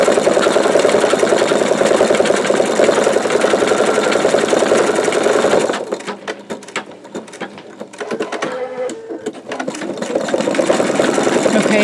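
Embroidery sewing machine stitching flower petal detail on a bumblebee quilt block, a loud continuous rapid mechanical whir that briefly drops into slower, quieter stitching before resuming at full speed.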